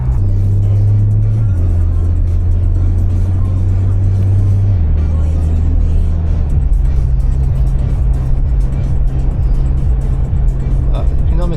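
Porsche Macan S engine idling with a suspected connecting rod knock, a loud steady low rumble that shifts pitch a couple of times, heard close with people talking over it.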